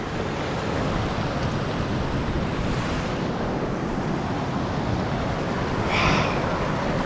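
Creek water rushes in a constant broadband roar with some wind noise on the microphone and one brief hiss near the end, and no voices.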